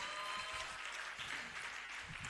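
Audience at an entrepreneurship empowerment forum applauding: a continuous wash of clapping from many hands in a hall, steady and moderately distant throughout, no speech over it.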